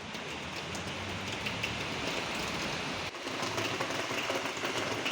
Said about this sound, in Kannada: ನೋಡಿ ಗೈಸ್, ತುಂಬ ಮಳೆ ಬರ್ತಾ ಉಂಟು. ಮಳೆಯ ಸುರಿಮಳೆ ಇವತ್ತು